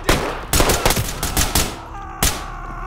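Several loud, sharp gunshots fire in quick bursts, with a few close together early and a final isolated shot near the end, during a nighttime SWAT raid on a trailer in the tactical shooter Ready or Not.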